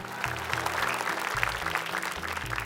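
A television talent show audience on Hafiz Indonesia claps steadily over background music with a thumping beat, the applause moderately loud and continuous.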